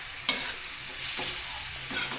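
Chicken for a sweet and spicy chicken adobo is stirred in a pan, with a sharp utensil scrape near the start and then soft scraping and a low sizzle that swells and fades.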